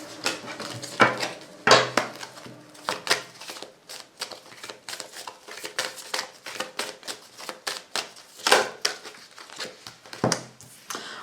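Tarot cards being shuffled by hand, a close, quiet series of crisp riffling and slapping bursts repeating irregularly, with no talking.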